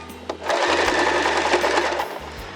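A sewing machine stitches elastic onto a fabric face mask in a loud, close, fast mechanical whir that runs in steady bursts, with brief stops between runs and no voices.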